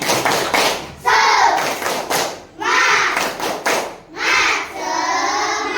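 Standing students perform a rhythmic spirit clap in a classroom, bursts of patterned claps separated by short pauses, with voices chanting along between and over the clapping.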